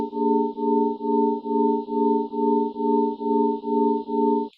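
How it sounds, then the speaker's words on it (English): Pure steady tones played from a cymatic CD, a clean sustained chord-like hum pulsing in even beats about twice per second, alone without voices. "So they're just frequencies."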